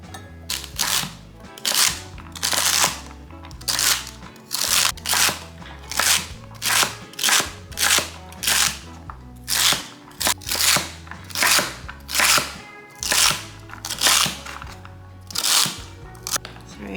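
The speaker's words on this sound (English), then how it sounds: "So I'm gonna chop up about 2 cups of celery" Knife finely chopping celery on a cutting board for a spicy chicken salad, a close, steady series of crisp crunchy chops in quick bursts with short pauses between them.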